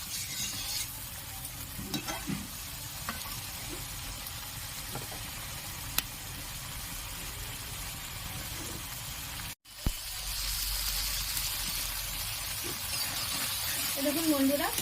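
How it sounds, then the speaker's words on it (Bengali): Spice paste for katla fish kalia fries in a pan with a continuous close sizzle and scraping stirring, which briefly cuts out and then returns brighter and louder. "আরও একবার ভালোভাবে মশলাটা কষে নেব।"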